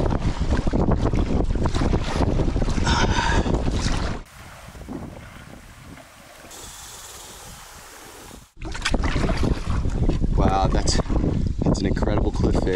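Strong wind buffets the microphone while kayaking on the Devils River, a loud roaring gust-noise in two long stretches, broken by a quieter middle section with soft water sounds.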